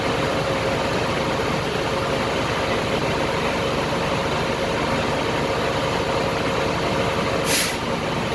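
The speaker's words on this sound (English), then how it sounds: "give it a little bit of a gas until I hear my valve push out" A loud, steady truck engine drones throughout, and near the end a brief, sharp hiss of air bursts out as the air brake valve releases pressure at about 125 psi.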